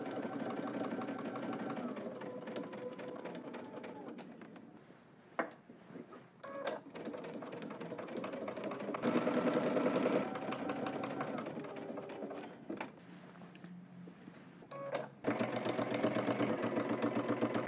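Close, whirring runs of a sewing machine stitching fabric, with several bursts separated by short pauses and clicks as the work is adjusted.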